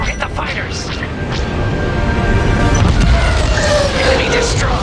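A starfighter blows up in Star Wars Squadrons with a heavy low boom, and the space-battle rumble and effects carry on around it. Cockpit radio voices chatter throughout.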